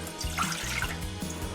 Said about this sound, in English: I'm gonna add 1 cup of water